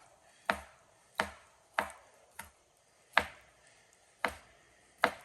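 Knife chopping food on a cutting board while cooking spaghetti: seven sharp, separate chops spaced about a second apart, close and fairly loud in a quiet room.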